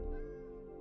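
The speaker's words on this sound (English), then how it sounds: "Oh my god, cats." A cat meows in Minecraft: one drawn-out, tonal cry holding steady across under a second, loud and close, with no talking over it.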